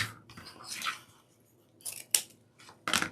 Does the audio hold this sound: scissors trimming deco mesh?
yes